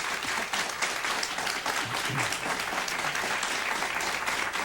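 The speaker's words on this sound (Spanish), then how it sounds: "yo creo que eso merece un aplauso" A studio audience applauds on a television talk show honouring a singer-songwriter, dense, sustained clapping that stays steady and fills the room for several seconds.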